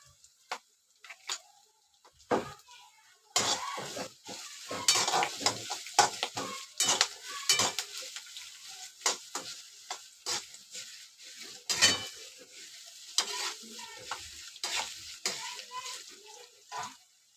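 Asafoetida (hing) hits hot oil in a pan while thin-poha chivda fries, giving a quiet, crackling sizzle broken by irregular stirring scrapes and clicks that come and go throughout.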